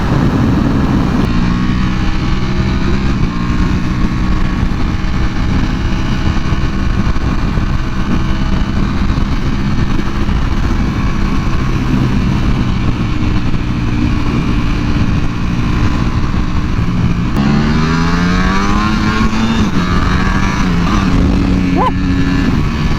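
A Ducati Panigale V4R with a loud aftermarket exhaust drones steadily while riding, engine note rising and falling with shifts under heavy wind noise, continuous and close.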